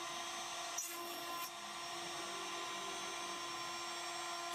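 A small aluminum part for a rocket launcher is machined with a steady high tonal whine and light grinding, continuous and close throughout with a brief scrape near the start.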